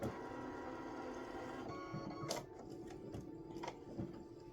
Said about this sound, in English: The first color stop is going to stitch a placement line for my batting.